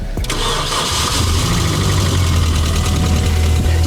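A car engine cranks briefly and catches on the first try, then settles into a loud, steady, close idle with a low rumbling drone.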